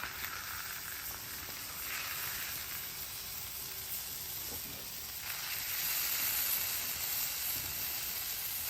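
A tortilla sizzles in beef tallow on a flat top grill; a loud, close hiss holds steady and swells near the end, with no voices.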